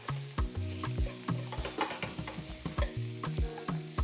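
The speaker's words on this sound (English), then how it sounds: "So now, I'm letting my shrimp get like a little tar or burnt look." Shrimp sear in a pan toward a charred, grill-like look, a continuous sizzle broken by frequent clattering stirs and scrapes of a utensil, close and fairly loud, no talking.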